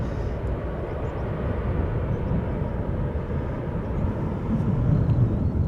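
A jet airliner landing at Schiphol Airport gives a steady, loud low roar that swells slightly near the end, continuous and close, with no voices.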